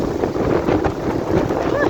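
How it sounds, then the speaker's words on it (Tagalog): Strong gusting wind of Typhoon Aghon in the Philippines buffets the microphone with a loud, continuous rushing roar, while a person speaks under it. "Malakas ang hangin"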